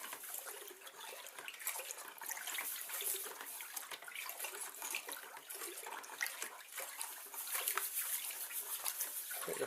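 Liquid pours slowly into home brew wine made with fruit tea bags while it is stirred, a steady close trickle and swish that runs without a break the whole time.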